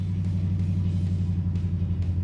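A 1950s car with a glass pack exhaust rumbles close by, a deep, steady low throb with a slight rhythmic pulse and no voices over it.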